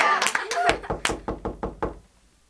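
Knocking on a door, a quick series of about eight sharp, close raps in an uneven rhythm, following a brief voice at the start.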